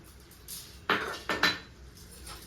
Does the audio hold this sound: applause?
no